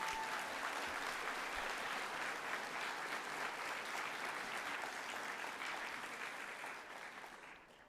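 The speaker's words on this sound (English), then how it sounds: "You can clap." Steady, dense applause from a large crowd at a university convocation ceremony, sustained and moderately distant before gradually fading at the end.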